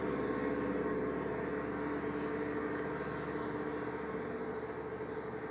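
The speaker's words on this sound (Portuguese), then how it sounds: "tá passando carro, esperar um pouquinho" A car passes by outside a room, a steady, fairly distant rumble of road noise holding evenly throughout with no talking over it.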